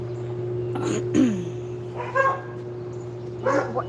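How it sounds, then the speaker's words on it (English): A dog on a farm barks three times in short separate yips, close by, over a steady low hum. "Why are we barking?"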